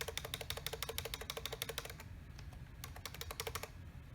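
Rapid clattering keystrokes on a computer keyboard plugged into a Raspberry Pi 4 arcade setup, steady typing bursts with a short pause in the middle, close and fairly quiet.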